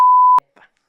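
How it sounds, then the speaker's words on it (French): A loud, pure editing censor bleep tone lasts under half a second and cuts off sharply, followed by a faint, brief voice fragment. "Moi, je vais mettre un bip."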